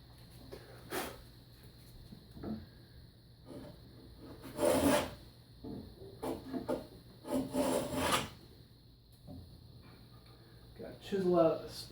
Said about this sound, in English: Chisel out the spot there, looking pretty good there.